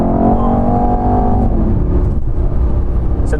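A Mercedes E63s AMG with a 612-horsepower engine accelerates hard, its loud close engine roar climbing in pitch and then settling into a steady throaty drone, heard from inside the car with no talking.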